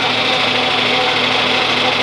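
A John Deere 4020 tractor engine runs hot while being given a workout, giving a dense, steady mechanical drone close up for a couple of seconds without a break.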